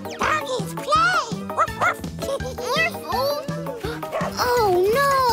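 A cartoon dog barks in repeated yappy bursts alongside high, bright voices and a lively musical score, the barks close and loud throughout the short stretch.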